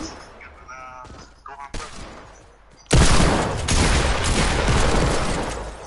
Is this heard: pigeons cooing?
no